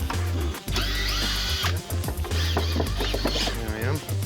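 A power drill whirs in short, rising and falling runs while unscrewing the top of a wheelchair ramp, with a low hum underneath and people talking nearby.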